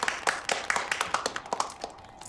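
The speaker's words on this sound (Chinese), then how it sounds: "大家鼓掌欢迎" A small group at a family meeting claps to welcome a school youth league secretary, with brisk uneven claps that fade within a couple of seconds.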